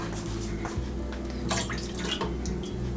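Water is poured into a measuring cup in a home kitchen while making Salvadoran escabeche, a steady splashing trickle over a low hum that continues throughout.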